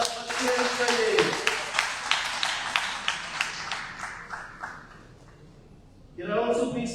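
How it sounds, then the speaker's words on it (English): Steady, evenly spaced claps from a modest audience at an award felicitation ceremony run for about four seconds and fade out before a voice resumes. "Round of applause, please"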